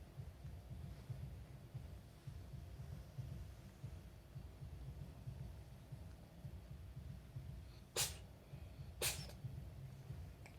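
A pet cat sneezes twice in a quiet indoor room, two short sharp bursts about a second apart, close by over a low steady hum.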